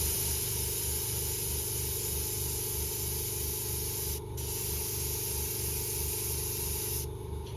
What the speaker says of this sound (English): I might just go one small dust coat again.